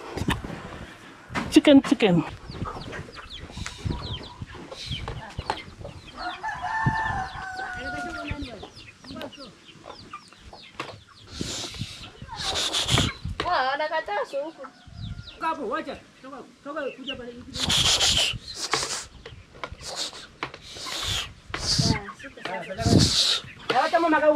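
Chickens cluck and a rooster crows around a farmyard in an African village. The calls are scattered across the scene, mixed with rustling and movement, while people talk nearby.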